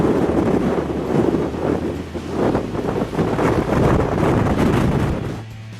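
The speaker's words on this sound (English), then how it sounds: "I don't know if you can hear me through the wind" Wind buffeting a microphone outdoors beside a hot springs park, a loud continuous rumbling roar with gusty surges throughout and no voices.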